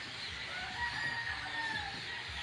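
Numerous birds call at once in a faint, distant chorus of overlapping chirps and clucks, with no talking.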